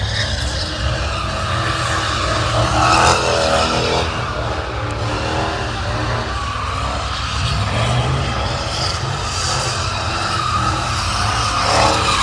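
Car spinning out on a Memphis street, tires squealing and skidding in a long continuous screech over a revving engine, loud and sustained, without talk.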